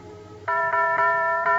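A doorbell rings on Christmas Eve after a long quiet lead-in, a bright chiming tone struck several times in quick succession. The rings sound close and loud.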